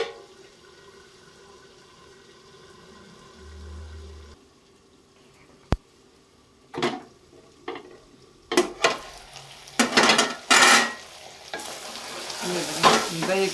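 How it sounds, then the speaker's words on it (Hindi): Yogurt being stirred and fried in a pan for chicken with bitter gourd, with intermittent scraping stirs and bursts of sizzle growing louder toward the end after a quiet start. "दही को भी अच्छे से भून लिया।"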